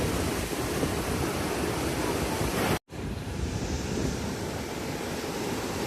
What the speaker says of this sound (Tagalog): Enjoy the view and the relaxing waves, sound of the waves.